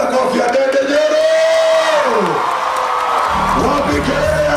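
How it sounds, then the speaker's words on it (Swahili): A crowd at a student career fair in Kiharu whoops and yells loudly, and one voice's long rising-then-falling shout stands out before the cheering broadens into a rough roar. "Wapi kelele ya Ndindi Nyoro?"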